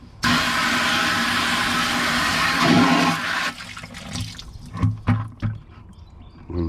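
Liquid is tipped from a beaker into a bucket during gold recovery from flat packs, making a steady loud rushing pour for about three seconds, then a few separate splashes and drips.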